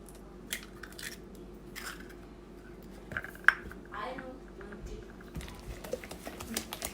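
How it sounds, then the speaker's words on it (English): A small spatula mixes a large egg into chocolate chip cookie dough in a bowl, making soft, close, intermittent scrapes and light clicks against the bowl. "Just mixing in the egg until we can't see it anymore"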